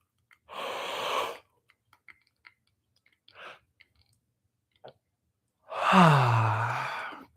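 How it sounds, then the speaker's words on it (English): A person yawns deeply and loudly: a long breathy exhale opens, soft clicks and a brief breath follow, then a big drawn-out yawn with a falling voiced groan. Close, with no words. "One more big yawn."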